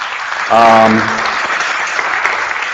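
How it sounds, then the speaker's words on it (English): Audience applause at a speaking event swells up as a dense wash of clapping, with a voice briefly heard over the start, then fades into a sustained background patter. "Would you give him a round of applause?"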